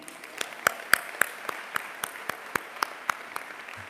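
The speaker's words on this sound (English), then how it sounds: "Another round of applause for Matthew." Faint, evenly spaced individual claps at a national education conference, a thin steady rhythm of separate hand strikes rather than a full ovation, with no voices.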